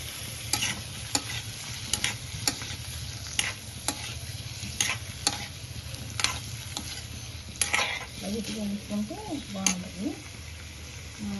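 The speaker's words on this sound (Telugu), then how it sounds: "కొంచెం ఇలా మనం మంచిగా వేయించుకుంటే ఆ టేస్ట్ కొంచెం వేరేగా ఉంటుంది" Cubes of paneer sizzling in oil in a pan for palak paneer, a steady frying hiss broken by regular scraping knocks of a spatula stirring, close up, with a voice briefly talking near the end.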